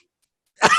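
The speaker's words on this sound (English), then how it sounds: "I just start coughing into the mic" A single short cough into a close microphone, sounding suddenly after silence, loud and breathy near the very end.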